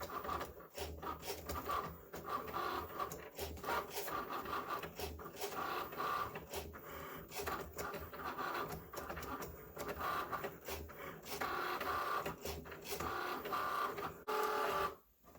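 A Cricut cutting machine cuts out t-shirt lettering, giving a steady mechanical whir with repeated scraping and carriage strokes for the whole stretch, moderately loud with no talk over it.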